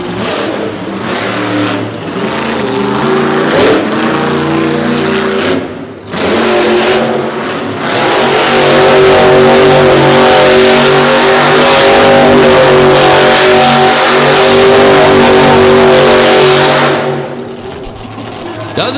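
A monster truck with a 557 cubic inch Chevy engine and open headers roars very loud and close, revving in bursts, then holding a long sustained blare, with a crowd faintly underneath.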